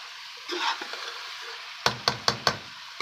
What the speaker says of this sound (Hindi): एक बार अच्छे तरीके से मिक्स करें इसको।